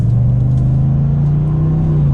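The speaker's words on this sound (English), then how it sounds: "And then of course we do have the aftermarket exhaust. So if we give it just a little bit of gas here," A 2019 Chevrolet Silverado 1500 pickup with an aftermarket exhaust revs briefly, its deep, steady engine rumble loud and close with no speech over it.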